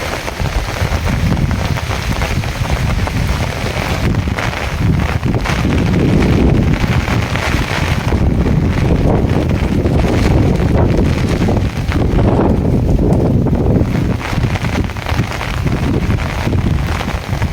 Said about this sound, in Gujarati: પવન સાથે વરસાદ હોય, છત્રીને કાબૂ કરવામાં પણ ભીણા નીકળી જાય.